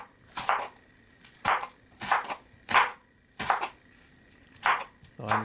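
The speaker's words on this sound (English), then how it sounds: "So I'm cutting them into small slices." Two large onions are sliced with a knife on a board for veg biryani: about seven crisp, evenly spaced cuts, close and distinct, with no talking.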